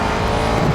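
A race car in a racing video game rushes past with a loud, continuous engine drone that stays steady through the brief moment, with no talk.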